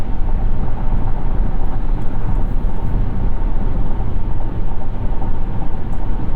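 Steady, dense road roar heard from inside a 2021 Volvo XC60 T8 Polestar plug-in hybrid cruising a loud stretch of highway, a constant broadband rumble with no voices.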